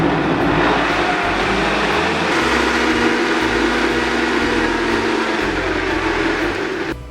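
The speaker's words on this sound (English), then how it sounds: "So I'm going to cover this now and then we'll start blending." A kitchen blender whirs steadily as it purees soaked beans, salt and other ingredients into akara batter. The motor drones loud and constant for about seven seconds, easing off slightly at the end, with no voices.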